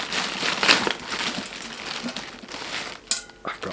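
Close, crisp crinkling of a plastic bag holding bits of food as it is handled and rustled in the cold taiga forest, with a few sharper crackles near the end.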